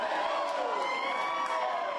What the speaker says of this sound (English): fans happy to cheer on the Colts here at home